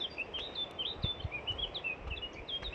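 Birds chirp and sing in short high whistling phrases during an outdoor walk, faint and distant, repeating every fraction of a second over soft footsteps and low rustling.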